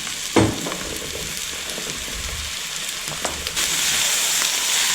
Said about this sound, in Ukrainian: морква з цибулькою обсмажилася. Додаю кабачки.